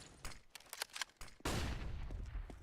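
Rapid bursts of gunfire in a competitive tactical shooter match, sharp cracks in quick succession followed by a dense, sustained volley of overlapping shots and impacts.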